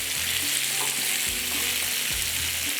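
Pieces of chicken tikka boti fry on a hot tawa in a dense, continuous sizzle that stays loud and even throughout, heard up close with a few soft low knocks underneath and no voices.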